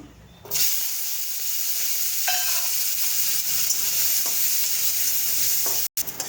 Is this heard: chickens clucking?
no